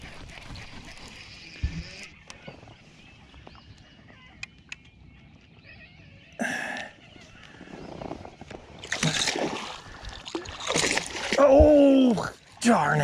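A hooked fish on a spring lake thrashes and splashes at the surface while being reeled in, with sloshing bursts building toward the end as excited voices talk over it.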